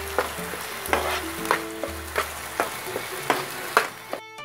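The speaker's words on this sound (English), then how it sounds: "Okay, now we stir it well." Young pepper, lamb leaf and fried Clarias catfish are stir-fried in a pan, with a sizzling bed broken by regular scraping strokes of the spatula roughly every half second, close and clear, with no voice.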